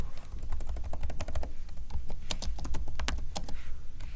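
Typing on a computer keyboard, a close run of quick, uneven clicking keystrokes with short pauses between bursts and no talk.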